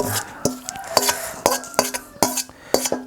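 Seasoned catfish being stirred in a pan or pot for an Isan-style dish: a utensil scrapes and clinks against the cookware in a steady rhythm about twice a second, close and clear, with no talking.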